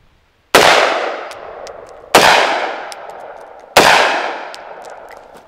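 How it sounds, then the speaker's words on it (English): Three loud gunshots from a 7.5-inch .223 rifle with an adjustable bolt carrier group, evenly spaced about one and a half seconds apart, each a sharp blast with a long ringing decay and no talking. "We'll put this to the first setting. Fire 3 rounds."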